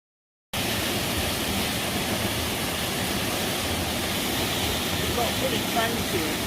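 A waterfall pours down directly overhead after a moment of silence, a loud, dense, unbroken hiss-and-roar of falling water at very close range, with a voice faintly audible beneath near the end.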